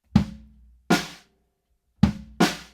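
Drum kit captured by a single mono room mic: four roomy hits in two pairs, each a thumping low attack with a bright, washy tail that rings out briefly before dying away, with silence between the pairs.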